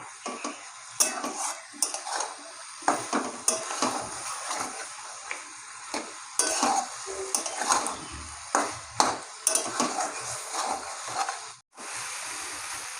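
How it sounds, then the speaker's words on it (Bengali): Spice paste stirred and fried in oil in a pan, cooked for a Bengali dish of banana stem, ridge gourd and pumpkin stems, with frequent scraping clinks of a spoon against the pot over a soft background sizzle. "মশলাটাকে এখন ভালো করে নেড়ে চেড়ে কষিয়ে নেব।"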